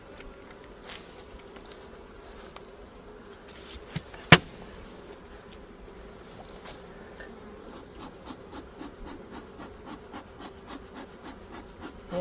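Burr comb being scraped off a beehive amid the steady hum of bees, with soft scraping and rubbing strokes, one sharp knock partway through, then a run of quick rhythmic scrapes close by.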